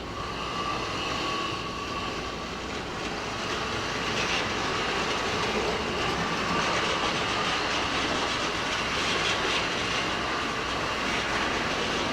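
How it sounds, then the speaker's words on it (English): Model railway locomotive running on newly laid track, a steady continuous rolling rumble with faint clicking, close and sustained throughout with no talking. "the first two locomotives to run on the new Boeville and Newtown. Here comes one of them"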